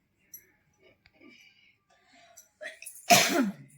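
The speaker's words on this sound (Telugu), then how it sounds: "నాకు ఇట్లా దగ్గు వస్తుంది" A soft voice murmurs briefly, then a single harsh cough bursts out near the end, close and fairly loud.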